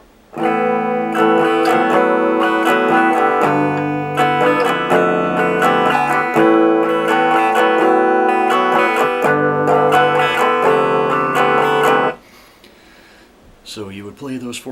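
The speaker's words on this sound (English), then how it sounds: "So all together, the chorus riff will sound like this." Distorted electric guitar plays a repeating chordal riff, loud and continuous for about twelve seconds, then stops abruptly, followed by a brief quieter strum.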